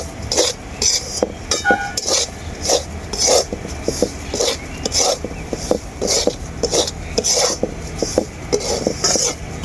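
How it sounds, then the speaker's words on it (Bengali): Semolina roasting in a pan with chana dal and vegetables for suji pulao, a metal spoon scraping and clinking against the pan in repeated rhythmic strokes, close by, with faint background noise and no clear talk. "এরপর আমি সুজিটাকে খুব ভালো করে ভাজতে থাকবো"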